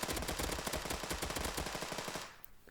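Rapid automatic gunfire in the free online FPS game Fire Strike Online, a loud continuous burst of evenly spaced shots that cuts off sharply near the end.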